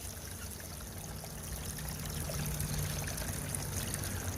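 Steady running water washes light sand and paydirt through a rain-gutter sluice, a continuous close trickle and pour with a low hum underneath and no voices.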